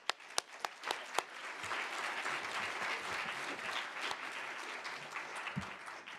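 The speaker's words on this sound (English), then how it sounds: "we can do a round of applause." An audience at a law review symposium panel applauds at the close, with a few sharp early claps swelling into a steady, moderately distant round of clapping that fades near the end.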